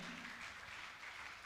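Steady applause from a seated audience at a religious discourse, soft and distant, continuing evenly without a break.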